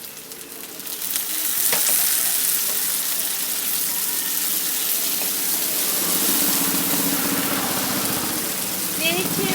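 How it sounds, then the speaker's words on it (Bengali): Peas, green chili and tomato drop into a pan of fried onion and garlic, setting off a loud, steady sizzle that swells after a sharp clatter and keeps hissing close up. "এখন আমি দিয়ে দেব মটরশুঁটি, কাঁচা লঙ্কা আর টমেটোটা।"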